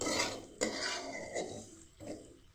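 Potatoes frying in a pan for masala pasta while being stirred, with close clinking and scraping of a utensil against the pan in a few distinct strokes over a steady background hiss.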